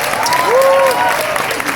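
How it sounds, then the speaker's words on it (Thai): Concert audience applause from a crowd at a Thai pop show, a dense steady clatter of clapping with cheering voices rising over it and a sustained shout or whistle sweeping across the middle. "ปรบมือให้หนึ่งทีนะครับ"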